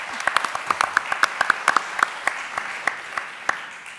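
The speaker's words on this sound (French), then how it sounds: "Alors très franchement, ça mérite des applaudissements." Audience applause at a French conference on multilingualism in the overseas territories, a small group clapping in scattered, uneven claps that swell briefly then thin out over a few seconds, moderately close in a meeting room.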